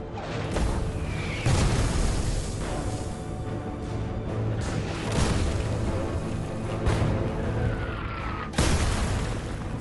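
German artillery explosions in a war documentary: repeated deep booms and thuds at irregular intervals, with occasional whooshes of incoming shells over a rumbling background.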